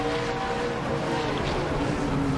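NASCAR Camping World Truck Series truck engine roars loud and steady during a victory burnout at Martinsville Speedway in 2018, a dense continuous drone with no pauses.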